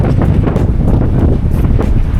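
Strong wind buffets the microphone on the open upper deck of a ferry bound for Dublin, a loud, constant low roar with gusty surges and no voices.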